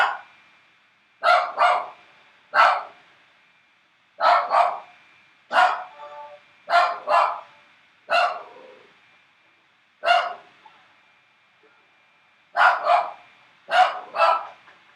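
A pet dog barks repeatedly in short paired bursts, loud and close, with brief pauses between barks and no other sound in the room.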